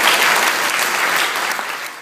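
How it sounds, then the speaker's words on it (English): Audience applause at a Raspberry Jam event in Cambridge, a dense, steady wash of many hands clapping that carries on loud throughout and eases only slightly toward the end. "Round of applause."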